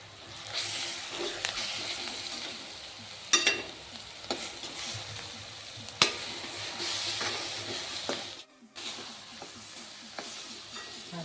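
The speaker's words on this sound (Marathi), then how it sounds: "परतून घ्यायचं फ्लेम मिडियम ठेवायची" Mashed roasted eggplant bharit being sautéed in a spice masala in a pan, a steady close sizzle with scraping stir strokes and a few sharper clinks of the spoon against the pan.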